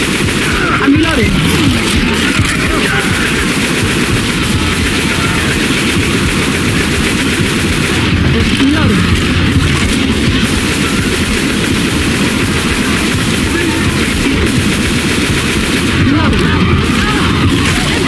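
Continuous gunfire in the video game Left 4 Dead 2, loud and dense throughout, with repeated shots and booms layered into a constant roar of combat noise.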